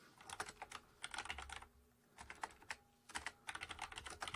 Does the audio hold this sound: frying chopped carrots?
no